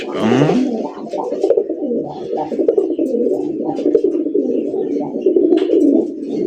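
Raj Golla pigeons coo in a steady, close, continuous run of low throaty calls, with faint chirps and light background noise around them.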